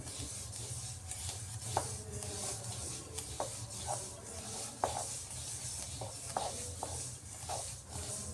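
Sesame seeds, about two cups, frying and being stirred in a pan for tilor khaja, giving a steady soft sizzling hiss with occasional light scraping clicks of the spoon, close and continuous.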